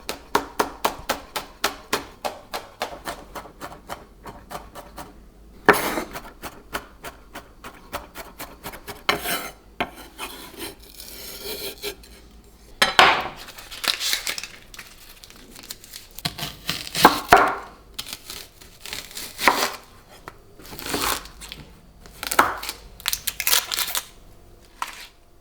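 Ingredients with papery skins being crushed and broken into pieces while cooking bistek tagalog, a Filipino beef steak dish: close, repeated sharp crunching and crinkling strokes in irregular bursts, with no talking.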